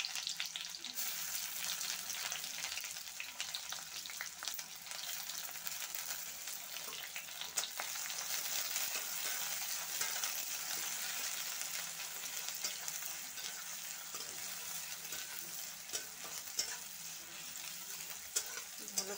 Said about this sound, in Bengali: কড়াইতে আমি তেল দিয়ে দিয়েছি, তো এর মধ্যে আমি এখন পেঁয়াজ কুচি দিয়ে দিয়ে দেব।